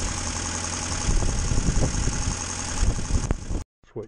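A Morris Minor's engine idles steadily and close by, a low rumbling chug, before it cuts out abruptly near the end and leaves near silence.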